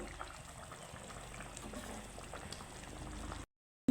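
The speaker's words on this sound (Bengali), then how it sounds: "আমার মাছের সাথে ঝোলটাকে সুন্দরভাবে ফুটিয়ে নিচ্ছি" Fish curry (rohu with a panch phoron seasoning) simmering in a pot, a steady close bubbling and low burble running continuously before cutting out near the end.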